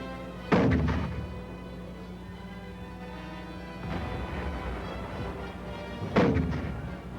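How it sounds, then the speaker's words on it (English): Heavy mortars of a 25th Division heavy mortar company firing at the enemy on the Korean War northern front, three loud booming launches spaced several seconds apart over a steady background rumble. "a 25th Division Heavy Mortar Company fires at the enemy"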